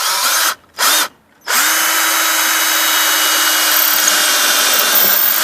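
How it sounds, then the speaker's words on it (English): A power drill whirs in two quick bursts, then runs steadily for several seconds as it pre-drills at an angle into wood soffit during bay window installation, loud and close. "But what I'm also going to do is I'm going to pre-drill."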